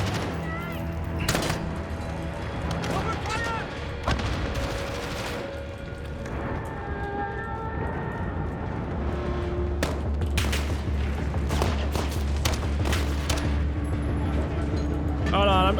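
Gunfire from Call of Duty: Modern Warfare, with repeated sharp shots and bursts over a dense battlefield din of rumbling engine noise and effects, while voices talk intermittently throughout.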